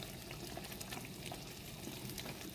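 Chicken stewing in a sherry cream sauce in a pan over medium-high heat gives a steady, soft bubbling sizzle that runs evenly throughout at a low level, with no talking.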